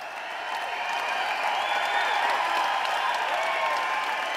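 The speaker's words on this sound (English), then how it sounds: "with every step closer toward the main square, the cheering grew louder" A large crowd packed into a main square cheers and claps, a broad continuous roar of voices and applause that swells slightly louder partway through and stays sustained throughout.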